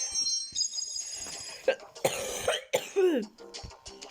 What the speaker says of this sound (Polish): Przepraszam, staram się nie kaszleć.